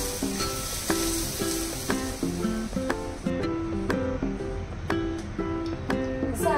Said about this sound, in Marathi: आता मी याच्यामध्ये तेल ओतते, एकदम गरम कडकडीत तेल.